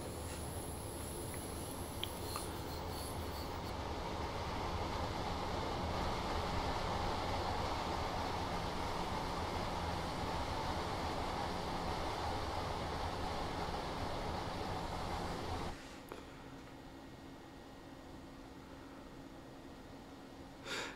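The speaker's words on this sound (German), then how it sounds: "S-Bahn kommt aus dem Tunnel." A simulated S-Bahn train rumbles steadily and loudly out of a tunnel in Train Simulator Classic, a dense continuous roar with a high whine that drops abruptly to a quieter, thinner rumble near the end.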